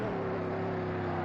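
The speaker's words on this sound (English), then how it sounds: "This car sounds crap." A race car engine at a Race of Champions event runs with a loud, steady, droning hum held at an even pitch for just over a second, with no pauses.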